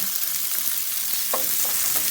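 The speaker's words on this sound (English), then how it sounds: "Just hear that sizzle, you know something is happening." A steady, loud sizzle of onion and sweet pepper frying in a pan with potatoes and spinach, with faint clinks and stirring noises underneath.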